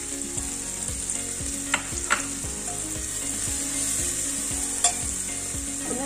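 Masala for chicken majboos fries with a loud steady sizzle in a pressure cooker while being stirred, with a few sharp scrapes of a spoon against the metal cutting through.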